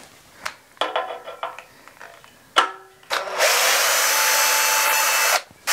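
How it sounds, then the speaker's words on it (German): Cordless drill-driver unscrewing the bed knife screws on a SWARDMAN Electra reel mower, with a few clicks and short stuttering bursts, then a loud sustained motor whir for about two seconds before it stops abruptly, close up. "Also holen wir den Akkuschrauber."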